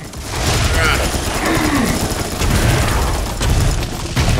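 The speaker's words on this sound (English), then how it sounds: "I'm gonna keep shooting at that corner of the wall, though." Video-game gunfire as a player keeps shooting at a wall corner: a loud, continuous barrage of rapid shots and booms filling the whole stretch.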